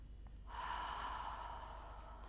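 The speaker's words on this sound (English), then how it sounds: "deep breath." A single deep breath during a yoga stretch, a steady airy exhale that rises after a brief pause and holds evenly for about two seconds, close and soft.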